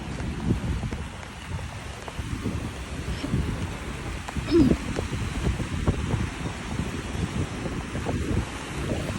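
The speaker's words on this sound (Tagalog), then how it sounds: "Grabe, laki na mga alon!" Big ocean waves surge along the Oroquita seaside, a steady low roar of surf with gusty wind buffeting the microphone and one slightly louder crash partway through.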